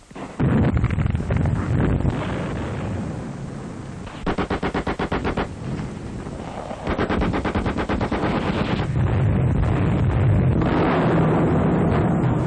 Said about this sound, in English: Trained men place the high explosive torpedo under the wire and move back to explode it by remote control.